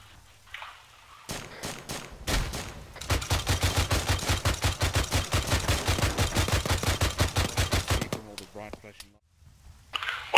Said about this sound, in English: Blue got a GPMG firing